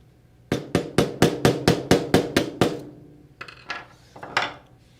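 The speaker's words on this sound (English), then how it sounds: "you may need a hammer and a screwdriver to push the solenoid out of the housing" A hammer strikes metal about nine times in quick, even succession, sharp ringing taps as a solenoid is driven out of a finish and trim tool's housing, followed by a few lighter, scattered knocks.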